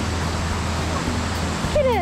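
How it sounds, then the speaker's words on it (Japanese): A waterfall in the Settsu Gorge river roars as a steady, dense rush of falling water, close and continuous, with a brief voice-like sound rising over it near the end. "滝到着。"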